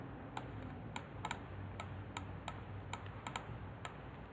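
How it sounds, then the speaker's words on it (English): Keys click on a computer keyboard in quick, uneven bursts of typing, faint and close, over a quiet steady background hum with no talking. "I'm going to type it because it's going to be too small to see"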